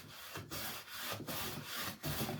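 Hand plane taking extremely thin shavings from a wooden board, several quick rasping strokes in a steady rhythm with short pauses between passes, close and clear.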